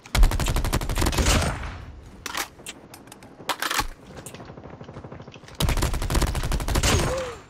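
Gunfire in the Call of Duty Mobile video game, with loud bursts of rapid automatic shots at the start and end and scattered single shots in the quieter middle.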